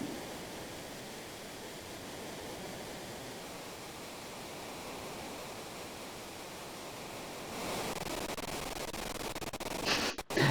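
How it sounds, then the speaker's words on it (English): Rushing river rapids in the video game Final Fantasy VI make a faint, steady broadband roar of water, which swells slightly toward the end before a few sharp clicks. "These rapids look quite rapid."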